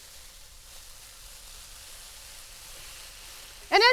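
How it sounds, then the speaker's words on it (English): Eggplant and zucchini stir-fry in olive oil with a steady, soft sizzle. Near the end, a brief high chirping sound cuts in. "Basically what I'm doing is just tossing everything, stir frying."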